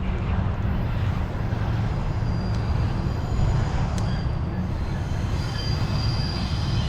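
A UPS freight train rolls past on a railway line in Texas, its wheels squealing and rumbling in a loud, continuous roar that fills the whole stretch with no talk.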